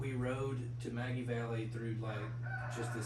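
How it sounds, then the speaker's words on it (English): A rooster crows somewhere in the background, faint beneath steady conversation between people talking close to the microphone, with a constant low hum throughout. "You can hear the rooster in the background."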